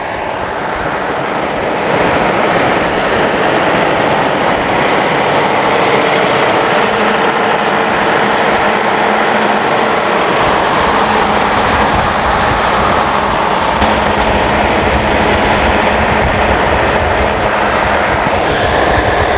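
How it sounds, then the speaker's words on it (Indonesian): A Caterpillar 500 kVA diesel generator runs steadily and loudly in an enclosed room, a continuous broadband engine roar with a low hum underneath, no voices. "Ini bunyi dari genset Caterpillar 500 kVA."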